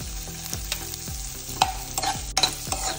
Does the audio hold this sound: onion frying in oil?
yes